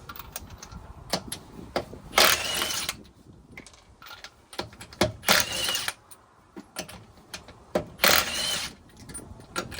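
Impact gun on wheel lug nuts of a late-1980s Honda Civic or CRX, several short loud bursts a couple of seconds apart, with clanks and rattles of tools and hardware between them.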